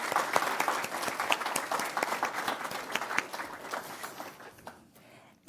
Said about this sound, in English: let's give a round of applause to Unity Charity